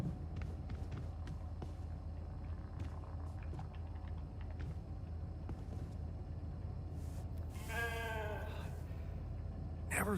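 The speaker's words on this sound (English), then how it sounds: "Never thought I'd be so glad to see a sheep." A sheep bleats once, a short wavering cry near the end, amid low steady background hum and soft clicks in the video game The Alters.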